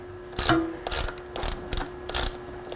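A ratchet wrench clicks in four or five short bursts as a bolt is snugged while a fat-tire suspension fork is fitted to an electric bike; each burst is close and crisp, with no talking.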